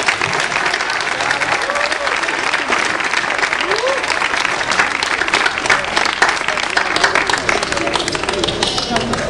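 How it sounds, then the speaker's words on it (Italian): An audience at an outdoor political rally claps in sustained, dense applause that keeps an even loudness throughout, with scattered voices and cheers mixed into the crowd noise. "Facciamole un applauso"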